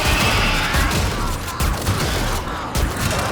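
Loud rapid weapon fire in a video game, a dense burst of shots with a brief dip midway before the firing resumes, close and punchy with no speech.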